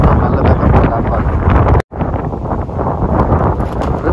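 Strong wind blows across an outdoor cricket ground during a local tournament match, buffeting the microphone in loud, continuous gusts that cut out briefly midway, with faint voices in the background.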